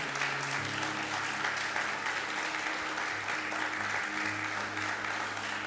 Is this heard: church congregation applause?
yes